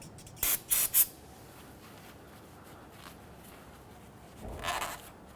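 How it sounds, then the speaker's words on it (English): Three quick hissing bursts of an aerosol solvent spray, then a pause, then one longer, softer spray hiss, all nearby with no voices, during a Nissan Frontier oil change. "Give this a quick spray with some solvent."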